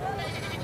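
A goat gives a short, brief bleat amid the chatter of people at a livestock market in DG Khan.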